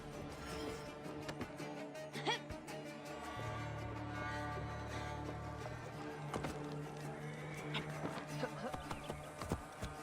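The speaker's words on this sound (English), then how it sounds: "I should find a horse." Hooves clip-clop in quick rhythmic beats as a horse moves in a video game, steady and fairly close, with a voice speaking over it and game ambience behind.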